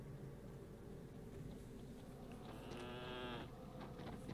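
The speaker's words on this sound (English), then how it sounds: "There's a lot of sheep here." Sheep in the video game Elden Ring: Shadow of the Erdtree give a single short wavering bleat partway through, heard over a dense, constant ambient wash of game background noise.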